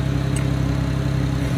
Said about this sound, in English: It's really loud with the car running.